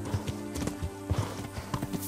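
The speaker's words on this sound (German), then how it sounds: "Was ist das denn für ein Pferdchen?" Horse in the medieval game Kingdom Come: Deliverance, with repeated clip-clop hoof steps over a low ambient bed and a faint snort, moderately close and steady with no talking.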